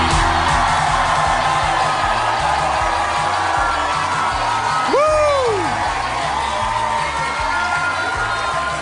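A loud concert crowd cheers and whoops continuously inside Max Watts, a music venue in Melbourne, with one voice letting out a rising, sustained yell partway through over the steady roar.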